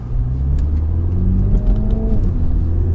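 A 2020 MINI JCW Hardtop with an 8-speed automatic pulls up to highway speed, its engine giving a steady, loud cabin rumble with rising harmonic tones and a faint whir throughout.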